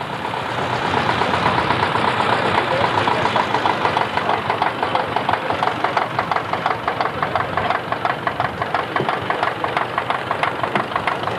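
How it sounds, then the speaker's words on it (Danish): An old stationary engine runs steadily at a Danish tractor rally, with a continuous chugging idle and faint knocking rhythm throughout, loud and fairly near. "Og så har vi Olsen fra Vestbjerg med hans stationære motor dernede."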